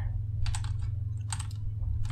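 Computer keyboard typing during a Minecraft session: two quick clusters of clicky keystrokes, plus a lone tap near the end, over a steady low electrical hum, fairly quiet and close.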